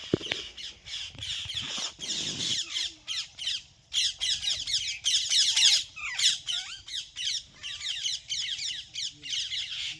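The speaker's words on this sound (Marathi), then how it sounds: "पोपटांचा किती कालवा चाललाय बघा" A flock of parrots squawks continuously in loud, harsh, overlapping bursts, with brief gaps and some distant voices underneath.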